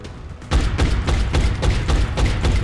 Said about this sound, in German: Der Schuss gefällt mir.